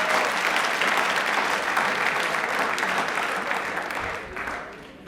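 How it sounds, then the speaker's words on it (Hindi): Loud, sustained applause from a studio audience at a televised quiz show, many hands clapping in a thick continuous roar that gradually thins and softens over the last second. "तालियां जोरदार प्लीज,"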